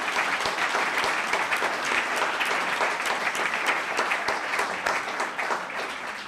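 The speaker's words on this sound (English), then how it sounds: "Another round of applause." A roomful of people claps in a continuous, even round of applause at a Los Gatos town council meeting, the sound sustained and fairly loud throughout.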